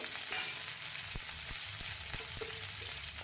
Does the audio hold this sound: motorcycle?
no